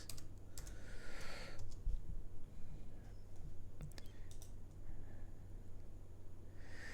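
Computer keyboard typing, soft and fairly close, in short irregular runs of clicks with pauses between them, under a low steady hum and with no talking.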